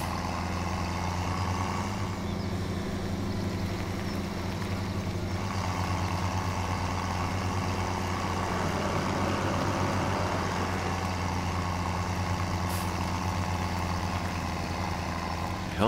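Slower farm tractor engine running steadily in Farming Simulator 17 on the Goldcrest Valley map, a constant low droning hum with a faint passing swell, no clear talk.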